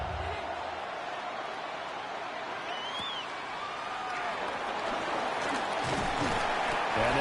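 A steady roar from a stadium home crowd in Buffalo in a football video game runs as a dense, continuous wash of cheering, with faint whistles and a commentator's voice underneath.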